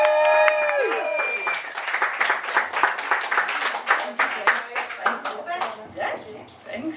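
Audience applause for a poet at a spoken-word open mic night in Liverpool, a dense burst of many hands clapping, steady and lively, fading slightly toward the end, with a brief ringing tone at the start.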